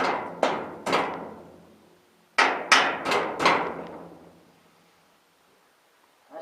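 A hand hammer strikes a greasy metal part on a John Deere S16 cart in several sharp, ringing blows, a pair then a quick run of four, each decaying, with no talking.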